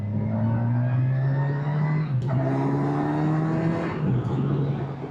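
A 2025 Kawasaki Versys 1100 motorcycle engine pulls steadily in third gear on a country lane, a loud, continuous drone that rises smoothly in pitch with a brief dip around a gear change, heard close with wind rush.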